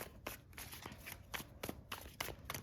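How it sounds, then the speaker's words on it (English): Tarot cards being shuffled by hand in a run of crisp riffling bursts and soft slaps, close and fairly quiet, repeating at an uneven rhythm with no talk. "I feel like I have to shuffle a few more times"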